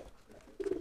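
A market-bought pigeon still learning its courting coo gives a short, soft low call, rising slightly in the last moment, close by with faint background hum.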